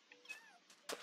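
A Minecraft cat gives one quiet, short, rising and falling meow in a game, with a faint rustle or shuffle just after.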